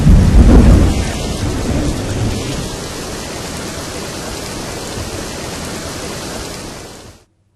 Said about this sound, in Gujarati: આણંદના બોરસદમાં ફરી વરસાદ વરસ્યો